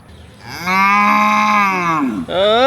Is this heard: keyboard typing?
no